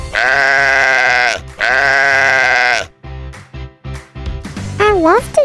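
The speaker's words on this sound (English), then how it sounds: "It's a sheep that lives in this house." Cartoon sheep in a children's farm-animal cartoon gives two long, loud, wavering bleats in a row, each about a second and a half, followed by a cartoon voice speaking.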